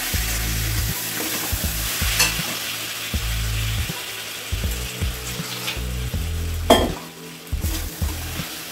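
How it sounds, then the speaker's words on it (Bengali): A frying pan of mango chutney with turmeric and salt being stirred, a spoon scraping in repeated strokes over a steady close sizzle, with a few sharper clinks of utensil against the pan. "ভালো করে আমি মিশিয়ে নেব।"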